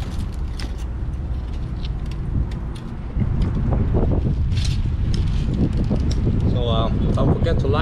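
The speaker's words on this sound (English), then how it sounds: "I don't know why it's so windy" Outdoor wind, in the shade, buffets the microphone with a continuous low rumble that strengthens partway through. Faint passing sounds appear here and there, and a voice is heard intermittently.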